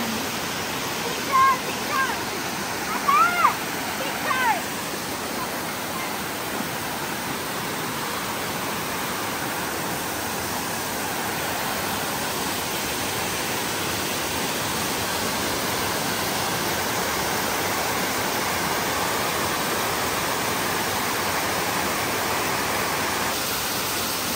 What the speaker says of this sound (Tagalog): Ang ganda talaga ng falls na ito.